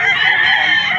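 A rooster crows loudly and close by at a chicken sale in Padre Garcia, Batangas, a single short crow filling the moment.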